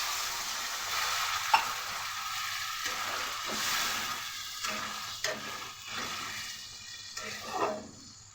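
Dry, well-fried spice masala sizzling in a pan as a little water goes in, giving a steady hiss with a few scraping stirs and soft clinks, close up and without talk.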